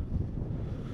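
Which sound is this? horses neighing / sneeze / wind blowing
wind blowing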